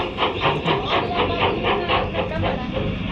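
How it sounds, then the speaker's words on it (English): A train rolls along with steady, rhythmic clickety-clack from its wheels, loud and continuous with a faint hiss on top and no talking. "está viendo cuando se acerca al tren"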